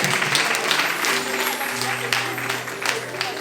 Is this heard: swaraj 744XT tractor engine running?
no